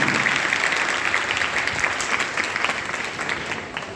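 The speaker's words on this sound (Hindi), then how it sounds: "ताली बजाइए पहले आप लोगों के लिए।" Audience applause fills a women's helpline outreach gathering in Jhansi, a steady dense clapping from a sizeable crowd that stays loud throughout and eases off slightly near the end.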